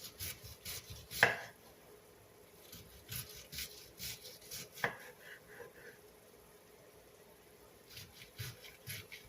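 A knife slices and cuts cabbage into bite-sized pieces on a board, giving irregular soft chops and rasping strokes with a couple of sharper knocks, fairly quiet and without speech.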